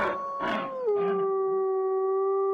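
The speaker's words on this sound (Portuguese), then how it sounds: "seguida de um uivo muito alto" A werewolf howl used as a story sound effect: one loud, long howl that bends downward and then holds a steady tone to the end, preceded by a few rough breathy bursts.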